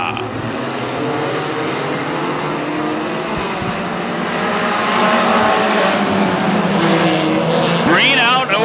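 Hornet and Hobby Stock race cars roar away on the green flag at a speedway, the engine noise building steadily as the pack accelerates, with a passing car sweeping by near the end.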